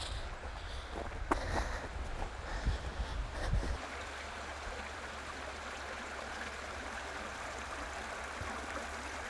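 A small creek flows out of a ravine below a house in a city, giving a steady broadband rush of running water. A few louder splashes or knocks occur near the start before the flow settles into an even, continuous wash.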